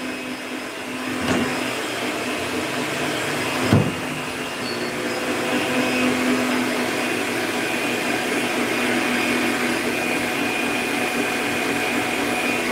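An electric mixer beats buttery cake batter made with margarine, running as a continuous loud whirring drone with a couple of brief knocks against the bowl, alone without talk.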